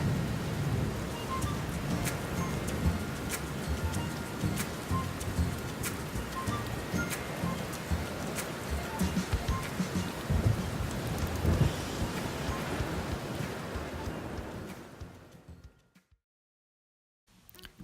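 Heavy, steady downpour drumming on surfaces with rumbles of thunder, loud and continuous before fading out abruptly near the end.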